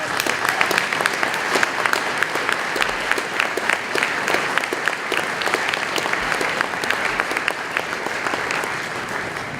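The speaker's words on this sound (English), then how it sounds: "one more round of applause" A crowd applauds loudly and continuously after a chorus performance at a Wreaths Across America ceremony, dense clapping filling the room with no pauses throughout.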